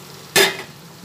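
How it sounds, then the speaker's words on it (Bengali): Pointed gourd (potol) pieces drop into hot oil with poppy seeds and turmeric, giving a single sharp sizzling burst that fades quickly over a quiet kitchen background. "এরপরে পটলটা যে তুলে রেখেছিলাম সে পটলটা তেলের মধ্যে দিয়ে দিলাম।"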